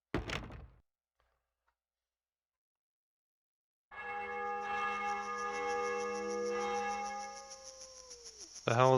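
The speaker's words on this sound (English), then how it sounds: "The hell is that? Church bells?" Church bells ring out after a few seconds of near silence, a sustained cluster of overlapping metallic tones that linger and decay, with a short thump at the start and another at the very end.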